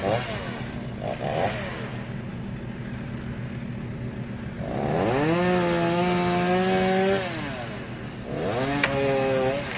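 A chainsaw overfilled with oil and having starting problems idles roughly, then revs up loudly twice, its pitch rising and falling, close by.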